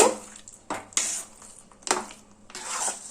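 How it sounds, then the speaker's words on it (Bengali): Spice masala being mixed by hand into a Bengali jujube (kul) pickle, several separate bursts of scraping, stirring and clinking a few seconds apart, close, with quiet gaps between them. "মশলাটা আচারের মধ্যে ভালোভাবে এবার মিশিয়ে দেব"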